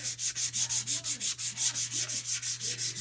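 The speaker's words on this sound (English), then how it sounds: "the only reason I'm sanding the top" Wooden snowman craft kit being sanded by hand, a steady back-and-forth rubbing rhythm of about five strokes per second, close and clear with a faint low hum underneath and no talk.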